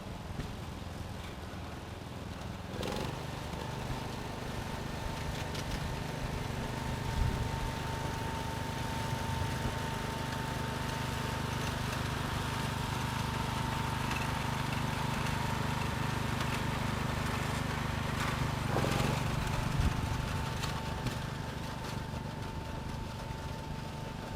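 An old tractor engine idles and runs steadily at a Parade of Power during Old Iron Days in Fredonia, Kansas, a continuous mid-pitched drone with a faint whine that holds for the whole stretch, with no talk.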